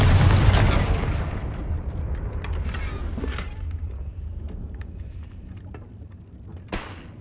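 Confringo blasting spell from a Harry Potter video game, a loud explosive boom that opens the clip and decays into a long rumbling tail, followed by scattered faint crackles and a small late pop.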